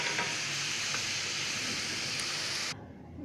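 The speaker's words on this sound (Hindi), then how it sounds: "मुझे 4-5 से 7 मिनट हो गए हैं इसे फ्राई करते हुए।" Chicken pieces frying in hot oil for butter chicken, a steady dense sizzle throughout that cuts off abruptly near the end, leaving near silence.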